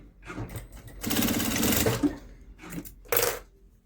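A sewing machine stitches a hem on fabric from a men's suit being remade, running in short close bursts with a longer stretch in the middle, separated by pauses.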